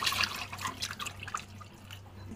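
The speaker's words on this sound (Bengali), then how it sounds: "এখন আমি এর মধ্যে হালকা গরম পানি দিয়ে দিলাম।" Lukewarm water splashes and trickles over washed broiler chicken meat in a pan, a close, uneven pouring and dripping sound lasting a couple of seconds.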